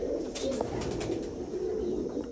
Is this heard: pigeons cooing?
yes